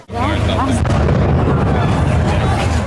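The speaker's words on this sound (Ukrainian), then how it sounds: "Просто під час зйомки лунає новий вибух." A heavy, sustained roar and rumble of a nearby explosion and its aftermath in Dnipro, Ukraine, with faint voices mixed into the dense noise.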